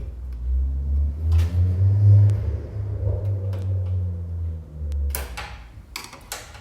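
Car engines rumble and rev outside a closed home garage, a low steady drone swelling and easing over several seconds with a few sharp knocks and clatters nearby, no one talking.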